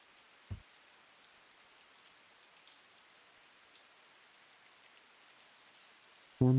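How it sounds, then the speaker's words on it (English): Steady rain falls in a video game scene, a soft continuous patter with a few faint drips, broken by a brief thump near the start and a louder burst at the very end. "It's always raining here."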